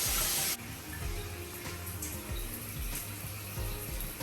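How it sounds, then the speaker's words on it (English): Cold water runs steadily from a faucet in a quarantine room, a soft continuous hiss and splash at close range, with a louder gush at the very start. "switch the faucet to cold, and then just leave it on running"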